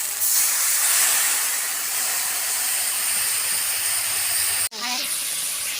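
Water is poured onto hot masala frying in a pan for a raw banana curry, setting off a loud, dense steam hiss that runs steadily, cuts out abruptly near the end, then resumes more softly.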